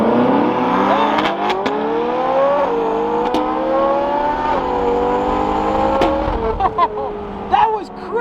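A Chevrolet Corvette C8 and a Ferrari 458 in a drag race, engines revving hard with rising gear pulls and shifts, loud and close, with voices over the roar.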